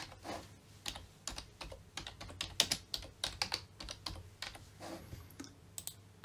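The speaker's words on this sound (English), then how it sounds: "So I'm now just going to type a little text in there." Keys tapped on a computer keyboard while entering a short line of text into a font tool in HitFilm Express, a quick irregular run of close, light clicks with brief pauses and no voice.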